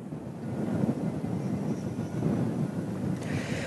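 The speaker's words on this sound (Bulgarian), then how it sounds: "даже е трудно от поривите на вятъра оператора да стои изправен" Strong gusty wind roars across an outdoor microphone on a cold winter day, a steady broadband rush with surging gusts throughout, loud and close with no talk.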